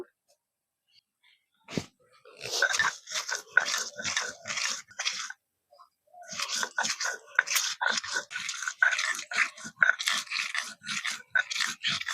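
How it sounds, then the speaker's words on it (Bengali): Dried chillies and ginger are ground on a village grinding stone in a series of rhythmic, rasping scrapes and crunches, close and fairly loud, with a short pause partway through. "একই সঙ্গে শুকনো লঙ্কাটাও বেটে নেব"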